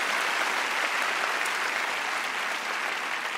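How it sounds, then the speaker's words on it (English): Audience applause at an Australia Day celebration in the Snowy Valleys, a steady, dense wash of clapping from a large crowd that holds evenly for the whole stretch with no talk over it. "give yourself a round of applause"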